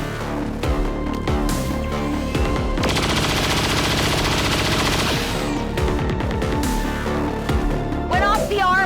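Sustained automatic gunfire and rapid bursts in the XCOM 2 video game, heavy weapons fire loud and dense over a continuous mix of game sounds and music.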